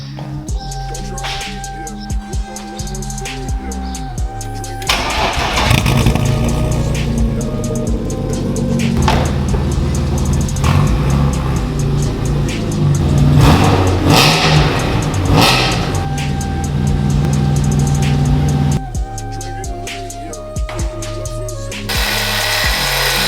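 A car engine revs hard through a newly fitted exhaust, rising and falling in loud, rough bursts of roaring, with quieter idling before and after.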